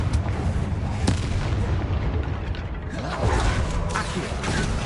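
A Confringo blasting spell in Hogwarts Legacy lets off rumbling, booming bursts with crackling impacts and mechanical creaks, loud and dense throughout, with no talking.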